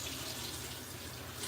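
Tap water running steadily into a kitchen sink with dish soap added, a constant broadband hiss with no voices.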